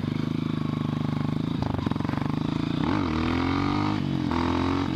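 Suzuki GSX-R sport motorcycle engine running close, a steady harmonic drone that climbs in pitch around the middle as revs rise, then holds a higher, rougher tone during a clumsy wheelie.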